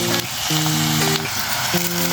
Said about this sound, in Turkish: Ve soğanlarımı güzelce kavuruyorum